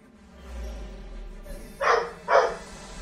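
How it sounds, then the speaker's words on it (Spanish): A pet dog gives two distinct, fairly loud barks in quick succession, close by and rising over a quiet background hum, with no talking. "Ya está mi perro ladrando para variar."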